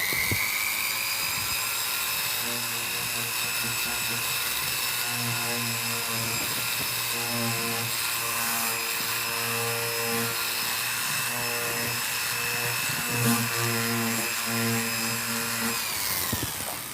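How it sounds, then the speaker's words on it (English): A steady electric jewelry polishing motor fitted with a rouge mop hums continuously with a rhythmic whirring pulse, close and even, with faint brushing friction over it, and no voices. "you should not really hear much of a difference from that motor when I put the rouge mop over"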